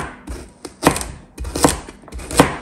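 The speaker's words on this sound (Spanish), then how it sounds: "la zanahoria la picamos en cuatro" Three sharp, evenly spaced thuds of a knife chopping a carrot on a board, close and distinct with faint handling noise between strokes.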